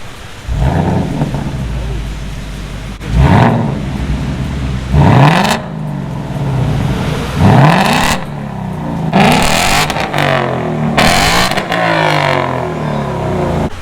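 A wrecked and rebuilt Cadillac ATS-V revs in several sharp, rising bursts over a steady rumbling idle, loud and close, with each throttle blip climbing and then falling away.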